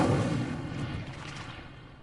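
A fiery burst from the Incendio spell in Hogwarts Legacy, a single loud rumbling blast that fades over about two seconds, with no talk over it.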